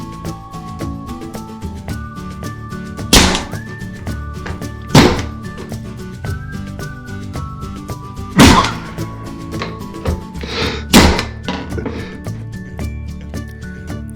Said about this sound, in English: Using my nail gun with 1 1/4 inch brads,